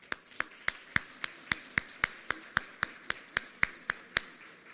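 An audience at a Latin America summit claps for Mother Moon, the claps landing as an even, steady rhythm of sharp beats repeating for several seconds.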